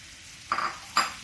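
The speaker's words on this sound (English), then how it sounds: "Into this lovely garlicky mix, I'm going to add the mushrooms." Mushrooms drop into a hot pan of garlic and herbs over a high flame, giving two short, faint bursts of sizzling and stirring against quiet background.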